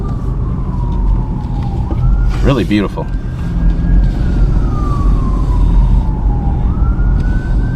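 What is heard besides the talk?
emergency vehicle siren in neighborhood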